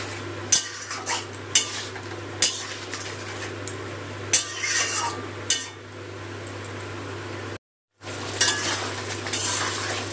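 A spice paste with sour yogurt, Kashmiri chili powder, cumin and coriander powder is sautéed in a pan, a steady loud sizzle punctuated by repeated sharp clinks and scrapes of a spoon, with a brief silent gap near the end.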